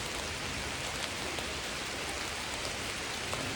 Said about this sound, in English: even in a rainy forest.